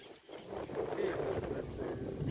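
Gusty wind at the seaside buffets the microphone in a steady, rumbling rush with low roar, loud and close throughout.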